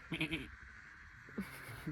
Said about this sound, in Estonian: Laseme lambad välja suurema ja teise ala peale.